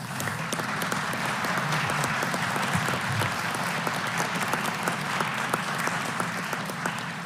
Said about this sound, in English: ask if maybe the room could give the two of you a round of applause